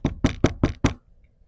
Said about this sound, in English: Duck knocked on the door early the next morning.